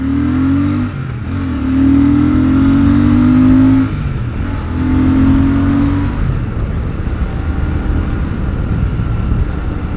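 A Royal Enfield Super Meteor 650 motorcycle engine drones loud and close while riding, with rising and falling revs as it shifts through gears and a steady wind-buffeted hum afterward.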